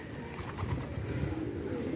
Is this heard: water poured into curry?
no